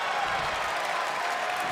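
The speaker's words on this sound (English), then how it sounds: "And Nash is firing up the crowd here." Crowd noise from a TNA 2K25 wrestling video game, a steady, dense wash of cheering and applause lasting under two seconds with no voices on top.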